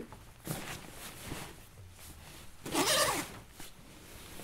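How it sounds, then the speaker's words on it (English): A zipper runs along a lightweight J3SD Super Spike duffel as it is fastened onto an Eberlestock Skycrane II backpack, several short close rasping pulls with one long loud stretch near the end. "so now we're zipping it, the Super Spike duffel to the pack"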